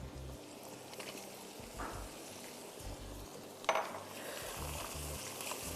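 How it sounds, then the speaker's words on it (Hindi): Minced garlic sautéing in melted butter in a pan gives a steady soft sizzle, with a brief utensil clink partway through. "जैसे ही मक्खन पूरा पिघल जाएगा और लहसुन सौते हो जाएगा"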